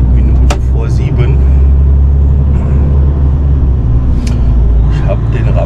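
A truck carrying a ramp low-bed trailer drives along with a loud, steady, close engine rumble that persists throughout, while someone talks over it.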